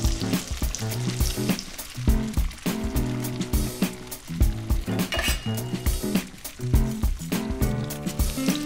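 Chicken pieces sizzle in a hot pan, a close crackling fry broken by repeated clinks and scrapes of utensils against the pan.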